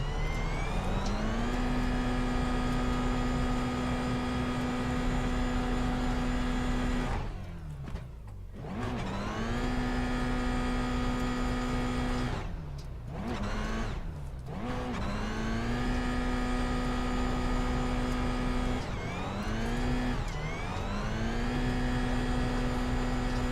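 A race car in the iRacing sim runs off the track onto the grass, its engine holding a steady, loud drone that dips briefly a few times as it lifts off and comes back on, with no talk over it.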